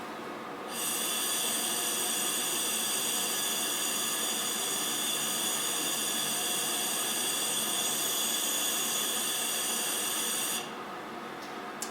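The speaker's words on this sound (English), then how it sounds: "Last, I'm just going to dry them both with a little bit of compressed air." A steady, loud hiss of compressed air blows for about ten seconds, drying a glass NMR tube and its cap, starting and stopping abruptly.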